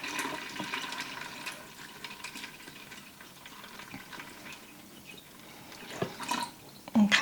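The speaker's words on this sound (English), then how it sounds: "now then I'm going to pour in my" Water poured into a pot of dried pinto beans on a home stove, a steady splashing trickle that rises near the end, close and moderately quiet with no talking.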